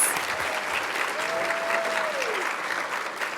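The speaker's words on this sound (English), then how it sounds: "One more round of applause for our hosting." Steady, dense applause from a large conference audience at a closing plenary session, continuous and even throughout, with a faint voice briefly audible beneath it.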